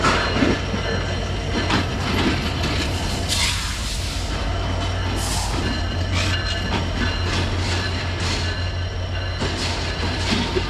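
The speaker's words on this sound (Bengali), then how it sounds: "অনেক ধৈর্যের উপর ট্রেনটা ঢুকলো রে এটা স্টেশন ছিল" A train rumbles into a station in Khulna, Bangladesh, with a continuous heavy roar, rhythmic wheel clatter and occasional metallic squeals, loud and close throughout.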